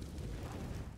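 An HE grenade bursts in Counter-Strike on the Mirage map during a professional esports match, a deep, rumbling boom that carries low and heavy through the whole moment, with no voices over it.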